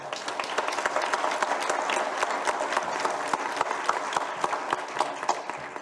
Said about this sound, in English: How about a round of applause for our Chancellor, Paul Cook